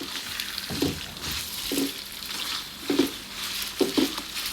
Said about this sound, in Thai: นำกุ้งที่เราโขกกับพริกแกงลงไปผัด